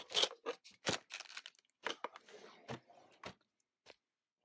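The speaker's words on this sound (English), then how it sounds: "I have a long scissors also to make it easier to cut in one" A series of sharp snips and crisp cutting sounds from long scissors, spaced irregularly, with some rustling in between, heard close up without talking.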